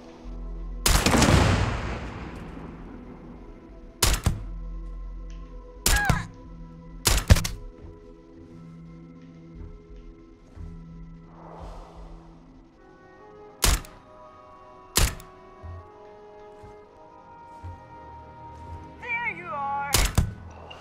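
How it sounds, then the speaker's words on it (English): Gunfire in the game Starfield, with pirates in an abandoned hangar: a loud burst opens, then sharp isolated shots crack at irregular intervals over a quiet electronic hum. "Someone shooting at me?"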